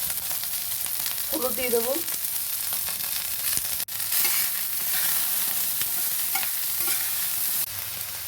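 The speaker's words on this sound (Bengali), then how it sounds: "দেখো একদম অল্প তেলে বেগুনটা ভাজছি আমি" Eggplant fries in a small amount of oil over a low-to-medium gas flame, giving a steady close sizzle with occasional stirring scrapes; someone speaks briefly partway through.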